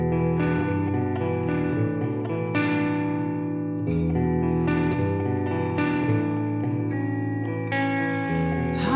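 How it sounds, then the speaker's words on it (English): Live band music performed through the Ardour audio workstation with added reverb: sustained, layered chords with a washy, echoing tail, playing continuously and loudly with no talk over it. "So one run through with more reverb."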